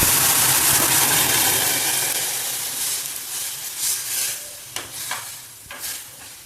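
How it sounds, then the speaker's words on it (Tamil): Dry vermicelli being roasted and stirred in a pan for semiya bagalabath, a close, steady sizzling scrape that fades slightly, with a few louder stirring clatters toward the end. "சேமியா இந்த மாதிரி வறுத்துண்டாச்சு."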